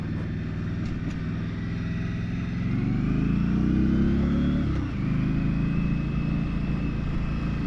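Indian Scout Rogue motorcycle and a car engine revving and accelerating together in a brief road race, loud and close, with a steady engine drone that swells midway, dips briefly near the end and then carries on.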